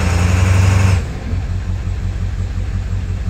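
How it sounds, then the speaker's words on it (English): A Ford 7.3 Powerstroke diesel engine idles roughly with a low, uneven lope. A louder rumble at first settles into a steady, close, pulsing idle. "Hear that lope? That's what it's been doing."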